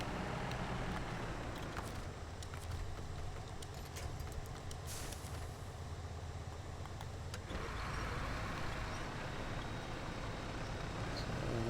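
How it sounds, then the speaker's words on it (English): A truck's engine drones steadily as its winch hauls it through deep snow in a modded driving game, a continuous loud mechanical rumble with a brief shift midway and no talking. "So I'm not making much forward progress, but the winch is pulling it"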